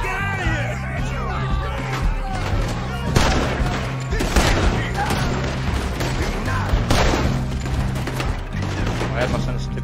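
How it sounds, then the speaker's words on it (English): Gunfire rings out in a Red Dead Redemption 2 boat heist, sharp shots and bursts scattered across a busy mix of shouting, music and game noise, with someone talking over it. "Shoot that man."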